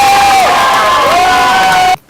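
A film crew's crowd cheering and whooping on set right after wrap is called, a loud, close burst of mixed voices that cuts off abruptly at the end.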